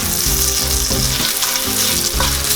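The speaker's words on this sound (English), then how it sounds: "And I'll add in my garlic paste, ginger paste, and let it cook for a minute" Garlic and ginger paste frying in a hot pan, a loud, dense, continuous sizzle heard up close with no voices.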